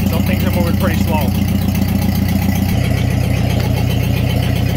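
Ford 8N tractor with a Sherman backhoe idling, a loud, steady, low engine chug with an even rhythm, continuous throughout with faint talk over the start.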